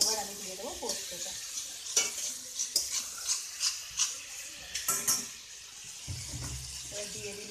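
Ground poppy seed paste goes into a hot pan for Bengali jhinge aloo posto, bringing soft frying sizzle with scraping stirs and a few sharp clinks, and a low thud near the end.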